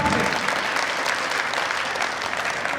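Steady applause rises from a crowd gathered for a religious discourse at a Ramdevra procession, a full, even wash of many clapping hands that stays loud and unbroken from start to finish.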